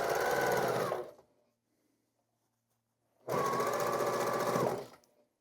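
A sewing machine stitching a quilt block seam, two loud, close, rapid bursts of needle rattle, each lasting one to two seconds, separated by a short silence.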